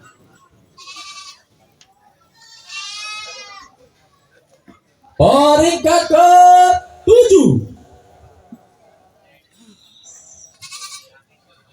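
Etawa crossbred goats bleat at a goat contest in Pacitan, with several loud, wavering cries near the middle and fainter bleats before and after, while an announcer talks over parts of it.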